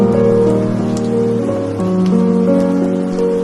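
Steady rain patters continuously on a surface, with a sustained tonal hum running underneath and no voices.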